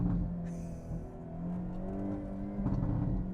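A 2022 Hyundai Elantra N four-cylinder, exhaust in manual mode, gives a short revving burst with rising engine tone and a few crackles, fairly close but moderate in level.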